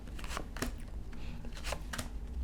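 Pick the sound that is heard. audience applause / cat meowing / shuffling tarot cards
shuffling tarot cards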